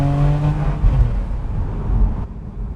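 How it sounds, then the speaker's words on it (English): A Porsche 911 991.1 Cabriolet with a non-turbo engine, set in sport mode, gives a loud, close rev that swells and falls, then settles into a throaty drone that fades at the end. "Right, let's pop it in sport and have some noise."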